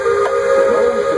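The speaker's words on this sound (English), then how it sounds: "This old locomotive is descended from the mighty trains that powered the golden age of steam." A Magic Kingdom steam locomotive whistle sounds one long, loud, steady blast that fills the whole clip, close by and with no talk over it.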